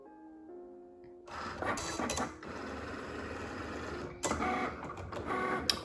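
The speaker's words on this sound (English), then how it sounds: "on the vinyl machine it's gonna say press go. So I'm gonna go ahead and press go." Home vinyl cutting machine cutting out logos, starting up into a steady mechanical whir with buzzing bursts as the carriage moves, continuous and close, with no talking.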